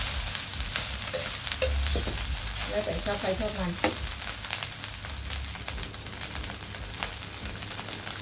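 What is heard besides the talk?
stir-frying rice in an iron wok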